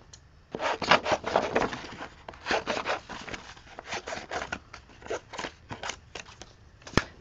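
Scissors snip through paper while a drawing is cut out, in a rapid, irregular series of crisp close-up cuts with brief pauses and rustling between bursts. No one speaks.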